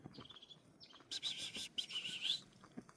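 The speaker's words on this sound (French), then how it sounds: "Les oiseaux qui chantent." Birds sing in a mountain forest in sunshine, with thin chirps near the start and a louder burst of bright, rapid twittering in the middle, all over a faint background.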